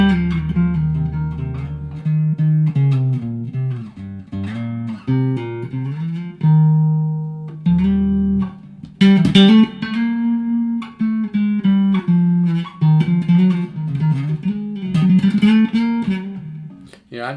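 Fender 2005 Mexican-made Precision bass played through a 10-watt Ibanez bass amp, loose noodling lines with resonant low notes and occasional slides and pauses, close and clear with no voices.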